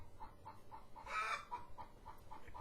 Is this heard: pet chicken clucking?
yes